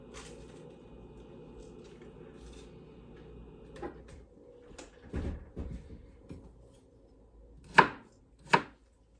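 A knife chops vegetables on a board with several distinct thuds, the last two sharp and loud, over quiet kitchen background.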